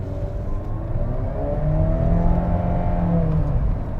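A 2021 Honda CR-V Hybrid's artificial engine sound: a steady synthetic hum with layered rising tones as it accelerates, continuous and moderately loud with no voices.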